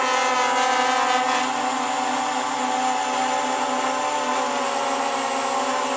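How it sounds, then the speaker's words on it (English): Motors of a JYU Hornet S drone whir in a steady, loud high-pitched buzz with a dense tonal whine that holds nearly constant throughout, with no voices. "I feel that the motor starts to spin slower"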